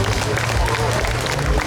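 Applause at a public children's song festival concert in Palanga, a dense continuous clapping from a crowd mixed with crowd murmur, loud and sustained.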